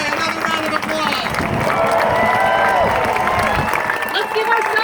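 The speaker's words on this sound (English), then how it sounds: "Let's give all our speakers today another round of applause." Outdoor protest rally audience clapping and cheering in a dense, steady wash of applause mixed with crowd babble, fairly loud and continuous throughout.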